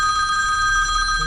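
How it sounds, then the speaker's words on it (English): A phone rings in a workshop during Mini Cooper R50/R52/R53 headlight customisation, with a steady electronic ringtone of bright sustained tones that sounds loud and close and runs unbroken throughout. "You will see the phone go on and off as we go through."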